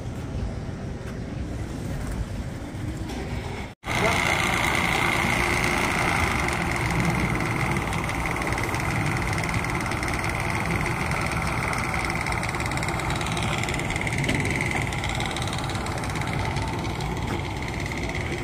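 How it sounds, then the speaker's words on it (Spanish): A motorboat engine at an amusement park lakeside being started after trouble, a brief cutout then a steady idling rumble with wind noise, continuous and moderately loud, no voices. "Algo le pasó a la lancha, que están tratando de prender la, el motor."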